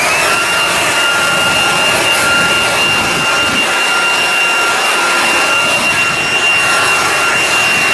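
Leaf blower blowing grass clippings into a pile, a loud, steady close-up roar with a constant whine that holds unbroken throughout.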